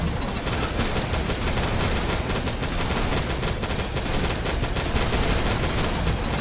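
Dense, continuous gunfire fills the DAEMON X MACHINA video game during a Dreadnought boss mission. Loud overlapping shots and blasts form an unbroken barrage throughout.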